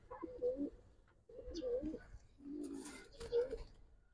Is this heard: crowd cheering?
no